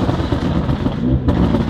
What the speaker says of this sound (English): this is what this car sounds like when it's like this